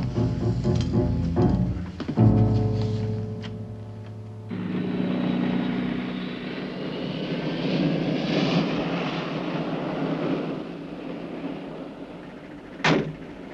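Airplane engine at an airport, a steady broadband roar that rises and swells as the aircraft departs, heard from a distance alongside a door sliding and some indoor clatter, with a sharp knock near the end.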